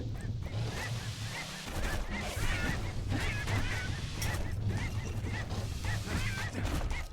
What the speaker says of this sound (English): the kid hears an unusual sound, like 100 flapping wings